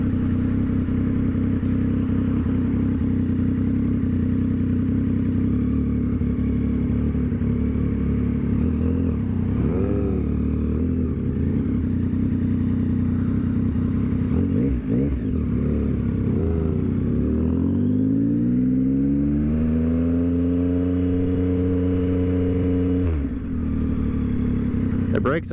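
Yamaha XSR900 2022 retro naked motorcycle riding at speed, its engine droning continuously, then climbing through the revs as it accelerates in the final seconds before easing off; steady wind and road noise throughout.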